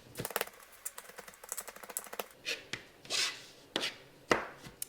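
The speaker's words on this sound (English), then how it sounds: "we want to mince the garlic and dice our onion" Knife chopping garlic and onion on a cutting board, a quick run of close, crisp taps followed by slower, heavier individual cuts, with no talking.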